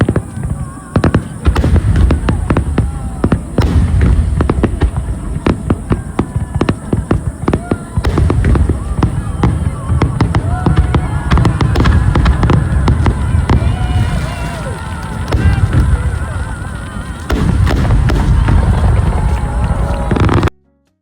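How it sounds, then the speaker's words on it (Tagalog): A dense barrage of fireworks finale bursts and crackles in Toyama City, Japan, loud and continuous, with rapid pops and booms layered together and voices faintly beneath. "ipapakita ko na sa inyo yung finale ng fireworks dito sa Toyama City"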